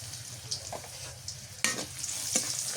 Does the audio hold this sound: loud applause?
no